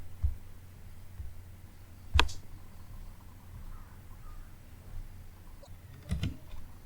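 Isolated clicks of typing on a computer keyboard while saving a file, a few sharp keystrokes spread through a quiet stretch.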